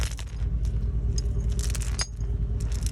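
A metal tow chain clinks and jangles as it is handled and knotted onto a vehicle, with scattered sharp rattles over a low rumble of a nearby car.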